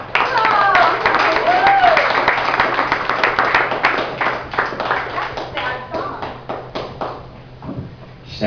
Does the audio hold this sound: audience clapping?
yes